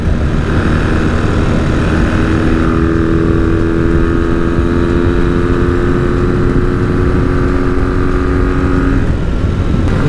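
A vintage Kawasaki motorcycle engine drones loudly and steadily while being ridden, with a sustained humming roar and a slight shift in pitch partway through, heard without speech.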